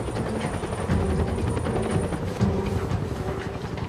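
A helicopter's rotor thumps steadily, flying right overhead on a mountain, a loud, continuous chopping drone with rumbling engine noise and no talking.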